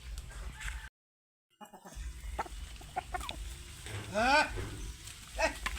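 Chickens on a poultry farm cluck in short, close calls with scattered rhythmic bursts, one louder squawking run near the end, over low farm background noise after a brief dropout.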